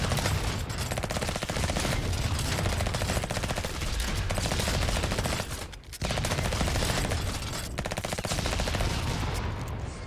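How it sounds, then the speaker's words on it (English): Auto pistol gunfire in a video game, sustained rapid bursts of shots at close range, with a short pause midway before firing resumes at the same fast rate. "Now the auto pistol isn't really meant to be used at this range"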